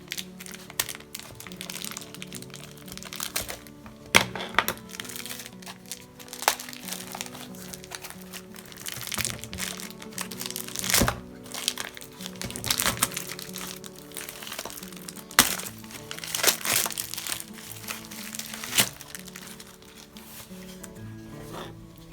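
Scissors snip and tear through crinkly plastic shrink wrap around spiral-bound square sketchbooks, giving a steady crackling, crumpling texture with sharp snaps scattered across the whole stretch.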